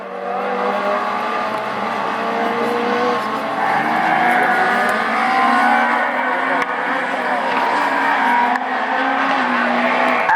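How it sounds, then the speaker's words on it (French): Super 1600 rallycross cars, including an Audi A1, racing at Lessay in the French championship, a dense roar of several high-revving engines from a distance, steady and loud throughout. "sa très belle Audi A1 qui a pris le meilleur départ"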